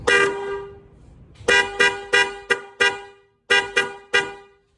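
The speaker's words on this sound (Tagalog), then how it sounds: "product review tayo sa horn na to" A Bosch Strider car horn blares in a long blast, then sounds in a series of short, sharp honks with brief gaps, loud and close.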